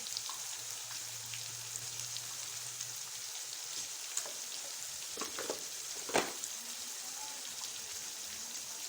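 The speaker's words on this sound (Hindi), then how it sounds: "अच्छे से भून लेना है ताकि इसका कच्चापन बिल्कुल दूर हो जाए।" Chicken biryani ingredients frying in a pot, a soft steady sizzle with occasional stirring clinks and scrapes, fairly quiet and close.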